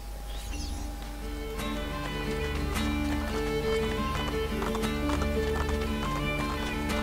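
Hooves clip-clop steadily as a horse gallops in Assassin's Creed Brotherhood, close and continuous, with a brief whinny and scattered game effects around it and no talk.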